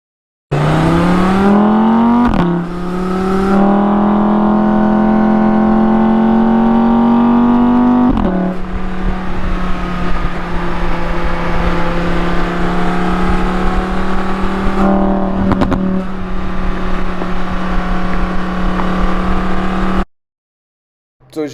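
A 2022 Audi R8 V10 Performance on its stock exhaust accelerates hard through the gears, loud rising engine howls broken by shift pauses. It then cruises quieter as the exhaust valves open and close, before cutting off abruptly near the end.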